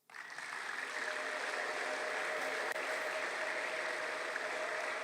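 A church congregation breaks into applause during a sermon, a sudden onset that builds into sustained, dense clapping holding steady and fairly loud throughout.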